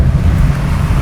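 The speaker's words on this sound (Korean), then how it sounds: "지금 비 와서 장난 아니야" Heavy rain and rushing noise surround a moving Fiat 124 Spider, a loud, constant wash over a low road rumble.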